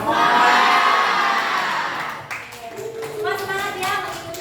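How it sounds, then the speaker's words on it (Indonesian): A classroom of students cheers loudly together in a burst of high, overlapping children's shouts that fades, then a second round of shouting rises again. "Jika menyenangkan, sorakan semangat yang paling kencang"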